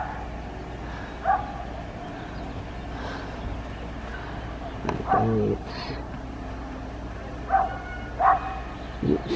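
A dog barks outdoors over a Memorial Day weekend, several separate bow-wows spaced out over steady background noise. A person speaks briefly and a car hums faintly.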